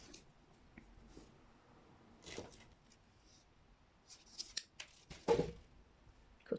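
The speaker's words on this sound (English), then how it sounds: "Cuts very easily with the snips." Small wire snips cutting beading wire while making a beaded tiara-style headpiece, a few faint, crisp snips scattered across a quiet background.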